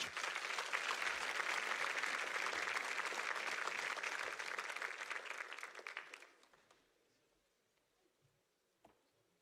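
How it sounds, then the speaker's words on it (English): Applause fills a congressional runoff debate hall as candidates return to the stage, dense steady clapping for about six seconds that thins and fades to near silence, with a faint stray sound afterward. "You can give them a round of applause as they enter back to the stage."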